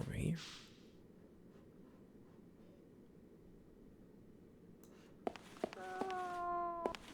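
A cat in the video game Fragile Dreams gives a short, clear meow at the start, then low steady ambient noise, followed by a burst of bright tonal game chimes near the end, with no talking.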